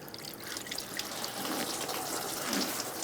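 Coolant pours from a disconnected radiator hose on a 2006-2011 Chevy HHR into a collection bucket below, a continuous close splashing trickle throughout.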